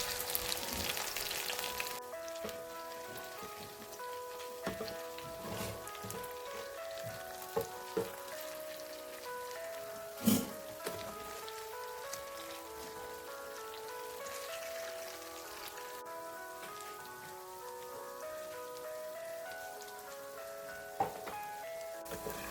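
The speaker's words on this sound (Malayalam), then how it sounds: "ആ മസാല പുരട്ടിയ സോയ നമുക്ക് വെളിച്ചെണ്ണയിലേക്കിട്ട് വറുത്ത് കൊടുക്കാം." Masala-coated soya chunks deep-frying in coconut oil give a steady, dense crackling sizzle throughout, with occasional sharper pops and clinks, close and continuous, no talk.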